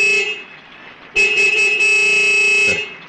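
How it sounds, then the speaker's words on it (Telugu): A car horn sounds loud and close: one honk, then a brief pause, then a longer sustained blast of about one and a half seconds. "జస్ట్ హారన్ కొట్టు, జంప్ మీద జంప్ చేసుకుంటూ వచ్చేస్తుంది"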